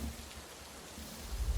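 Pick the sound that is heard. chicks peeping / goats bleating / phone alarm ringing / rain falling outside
rain falling outside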